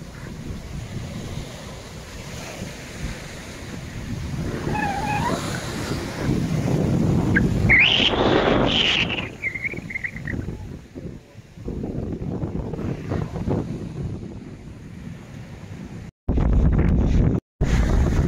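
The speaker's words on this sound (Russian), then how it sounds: "И вот наше любимое море, волны." Stormy Black Sea surf rolls onto the beach at Vityazevo while gusty wind roars across the microphone, loud and continuous with surging wave crashes and a few abrupt dropouts near the end.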